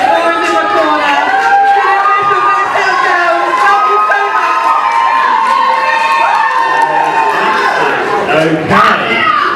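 A big group of supporters cheers and shouts for a dancer at a university Strictly-style dance competition, loud, dense and continuous throughout, with excited voices and whoops layered over one another.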